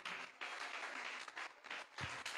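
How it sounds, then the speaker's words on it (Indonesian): Congregation applause during an Indonesian church sermon, a steady wash of many hands clapping at a very faint level, with a few slightly stronger bursts and no talk over it. "beri tepuk tangan bagi dia"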